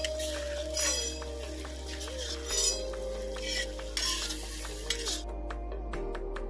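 Ginger, garlic and onion paste frying in a pan with chicken, stirred with a metal spoon: steady soft sizzle with repeated scraping and clinking strokes, close, alongside low background music.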